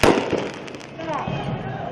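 Fireworks set off by protesters during night-time street clashes in Istanbul give a sharp burst and scattered crackling pops amid crowd noise, with voices audible in the background.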